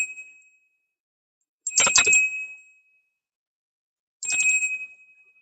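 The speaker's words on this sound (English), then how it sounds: "And we'll ring a little bell." A small bell is rung twice, each ring a bright, clear metallic ding with a tonal ring that decays over about a second, separated by silence.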